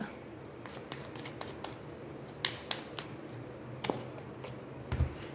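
Tarot cards shuffled by hand, a series of crisp riffling snaps and flicks in irregular bursts, close and fairly quiet, with faint room noise between.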